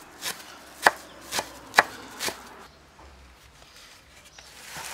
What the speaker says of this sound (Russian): Так, рубим петрушку